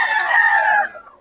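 A single loud, close rooster crow rings out at a festival expo, one sustained call that fades at the end, standing alone without talk.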